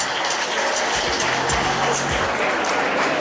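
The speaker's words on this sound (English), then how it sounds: "Let us clap for them." An audience at a secondary school magazine launch claps steadily in a broad, continuous wash of applause, loud and close, with a few sharper individual claps standing out.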